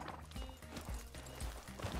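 Horse hooves clip-clop in Red Dead Online, a quick, rhythmic run of close, fairly quiet hoofbeats with no talk over them.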